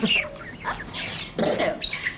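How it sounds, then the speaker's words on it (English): A talking budgie chatters in a radio drama, a run of squeaky, warbling calls and chirps that stays close and fairly loud for about two seconds, with no words spoken over it. "he's a talking Budgie, then."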